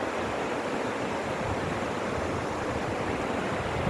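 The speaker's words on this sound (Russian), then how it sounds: "Горная река." A mountain river with waterfalls at Krasnaya Polyana near Sochi in the Caucasus gives a loud, constant rushing roar of churning water, even and unbroken throughout, with no voices.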